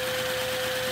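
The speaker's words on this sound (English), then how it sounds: "Since it's a three-cylinder, it is an E3 engine." A three-cylinder Lego vacuum engine in an E configuration with three parallel crankshafts runs steadily, giving a close, continuous mechanical whir with a fine rapid rattle and a faint constant tone, alone without speech.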